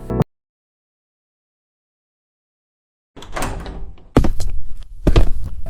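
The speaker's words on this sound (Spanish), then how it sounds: "El clima no llegó con una llamada, sino con el sonido de la puerta principal." Front door of a home opening, with a brief click, then a stretch of silence, then a rustling swing and several solid thunks of the door and latch, close by.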